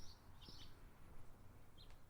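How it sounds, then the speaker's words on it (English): Birds chirp in trees on a morning walk: a few short, high tweets come and go, fairly faint and distant, over a soft outdoor hum, with no talking. "the sounds of morning with the birds chirping in the trees"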